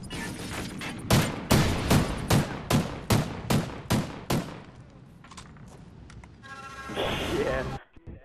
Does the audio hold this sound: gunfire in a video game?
yes